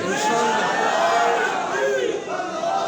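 A rally crowd chants a religious-political slogan in unison, a loud, sustained roar of many voices held close and full for the whole stretch.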